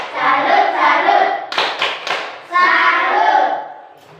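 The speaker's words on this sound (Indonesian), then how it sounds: "Mari kita beri tepuk salut untuk Nona Yani." A school class in Indonesia claps a rhythmic 'tepuk salut' cheer, with children's chanting voices around bursts of sharp, patterned hand claps in the middle.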